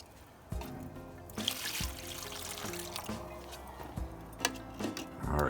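Water is poured in short, repeated trickles into a pan while brisket is prepared, faint and close, with splashy bursts separated by brief pauses.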